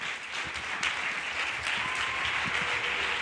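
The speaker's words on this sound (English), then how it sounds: "please welcome Scott Arpajian with the warmest Startup Grind applause" Audience at a Startup Grind Barcelona anniversary event applauds as a speaker is welcomed on stage, with dense, steady clapping and some cheering filling the room throughout.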